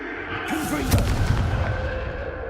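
Hogwarts Legacy's Confringo spell goes off as a heavy, explosive boom with a sharp crack near the middle, followed by a rumbling, fiery tail that lasts a couple of seconds, with no voice.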